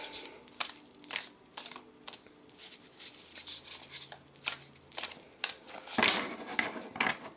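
Cards from a brand-new, still stiff tarot deck are shuffled and picked, giving repeated soft snaps, flicks and rubbing clicks at an uneven rhythm, close and fairly quiet.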